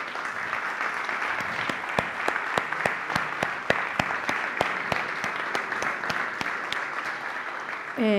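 Audience at a talk on whistled language applauding, a soft bed of clapping with distinct sharper individual claps standing out in a loose rhythm, ending with a voice beginning to speak.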